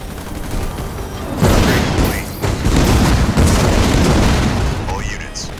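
Halo Wars battle: heavy booming explosions and bursts of gunfire erupt after a quieter start and continue loudly in a dense, chaotic barrage with scattered blasts toward the end.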